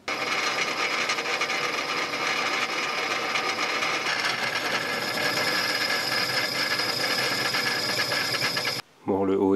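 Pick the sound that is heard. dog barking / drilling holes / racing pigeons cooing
drilling holes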